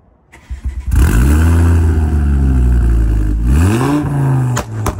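Ford Focus ST Mk2 stage 3 tuned to 350 horsepower pulls away hard, its engine note climbing loud and close through a long rising rev, dipping with a gear change, then climbing again before easing off.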